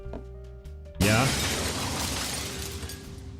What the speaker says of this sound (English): Can I shatter this glass?